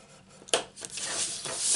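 Cardstock paper being scored for a box gives a couple of short scraping strokes, one sharp and one softer, followed by a longer rubbing sweep, close and quiet.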